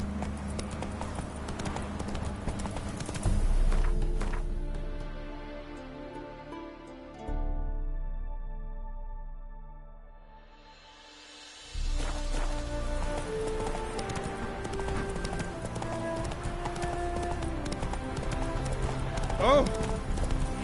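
Horse hooves clip-clop in The Witcher 3, a steady trotting rhythm up close that fades and briefly drops away mid-way before resuming, with game music and effects layered over it.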